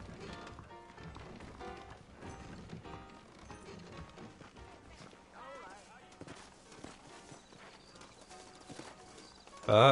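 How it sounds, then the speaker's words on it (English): Horse hooves clip-clopping in the video game Red Dead Redemption, a steady trotting rhythm under game music and ambience, ending with a sudden loud burst. "I got the horses saddled up and ready out front."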